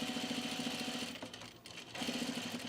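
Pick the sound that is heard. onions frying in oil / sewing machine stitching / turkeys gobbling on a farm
sewing machine stitching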